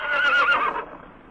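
A single horse neighs loudly in a sound and light show at the Red Fort in Delhi, where horses from the royal stables are paraded. The shrill whinny lasts under a second, then fades into quiet.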